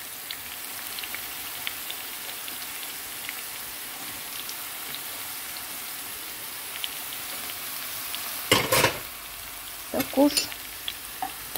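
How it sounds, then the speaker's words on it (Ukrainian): Vegetables with onion and pepper stewing in a frying pan for borscht give a soft, even sizzle throughout, with a couple of louder scraping stirs near the end and a brief spoken word. "трохи припускаю, трохи його тушкую на сковорідці"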